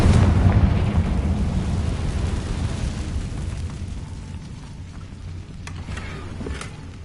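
A Confringo blasting spell detonates in the video game Hogwarts Legacy: a heavy, booming explosion with a long rumbling tail that slowly fades, followed by a few faint crackles.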